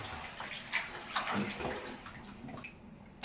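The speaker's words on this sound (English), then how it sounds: "The water's going out now." Water drains from a bathtub after window blinds are rinsed in it, a soft continuous gurgle and trickle with scattered drips, close by and fairly quiet, with no voices.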